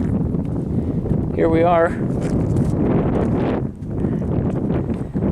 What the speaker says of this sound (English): I don't know if you can hear the wind in the trees, but it sounds wonderful.